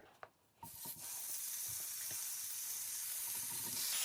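Chicken burger patties go into a hot pan, and a loud steady sizzle and hiss rises and holds after a few soft clatters. Heard up close, with no talking.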